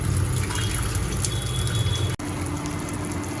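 Tap water runs steadily while prawns and pomfret are rinsed in a home kitchen, a continuous close gush with a brief break near the end and no talking.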